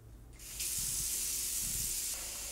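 Tap water runs into a sink to fill a cold rinse bath for washing an antique Hungarian blouse, a close steady hissing gush that starts abruptly and continues.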